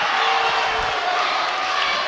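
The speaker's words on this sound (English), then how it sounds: "And the student section cheering for that one." Loud, sustained roar of a high school student section cheering at a boys basketball game between Pleasant Grove and Westlake, a dense continuous crowd wash throughout.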